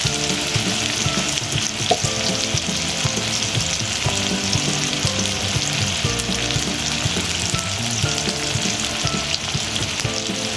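Something fries steadily in a pan while prawn dal is being made, a dense, even sizzle that stays loud and constant throughout, with faint tonal music underneath.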